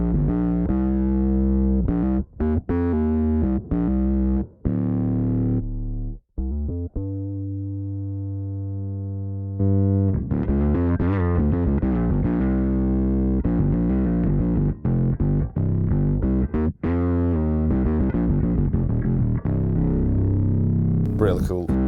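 Bass guitar through a Darkglass Electronics Kaamos bass synth pedal in mode 2, producing thick distorted synth tones with sustained held notes and choppy rhythmic phrases, loud and close, playing alone.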